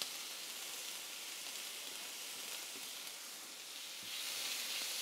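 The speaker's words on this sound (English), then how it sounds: "Just some neutral oil in there, our garlic, our onions." Garlic and onions frying in neutral oil in a pan, a soft continuous sizzling hiss at low level that swells slightly toward the end, with no talking.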